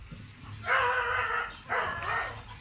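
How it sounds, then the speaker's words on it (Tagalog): Two loud barks from a dog next door, spaced about a second apart, with faint background noise between them. "Medyo maingay po yung aso sa kabilang bahay."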